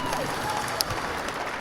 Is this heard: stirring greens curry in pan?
no